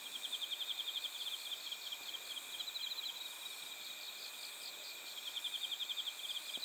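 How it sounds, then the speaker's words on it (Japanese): Bell crickets chirp at night beside Sugawa Lake in Nagano, a steady high trilling in rapid pulsed bursts that carries on throughout at moderate volume, with no one speaking. "鳴ってんだ、スズムシの音と"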